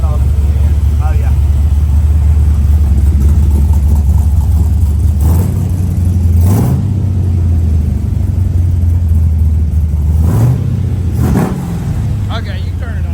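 Freshly built blueprint 400 engine in a 1969 Camaro at first start, running loud and steady close by with several sharp revs rising and falling; people talk over it.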